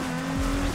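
Racing-game engine drone of an Aston Martin DB11 Volante in Need for Speed Payback, a steady loud hum with a deep rumble building in the second half, no voices.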